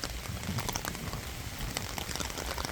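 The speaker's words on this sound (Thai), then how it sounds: "ฝนตกเยอะมาก" Heavy rain pouring steadily, a dense crackling hiss of drops hitting surfaces all around, loud and unbroken.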